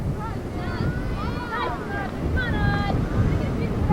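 Wind gusts steadily across the microphone at an outdoor softball game in Chazy, a broad, roaring rush under scattered talk and higher tonal squeaks, continuous and loud throughout.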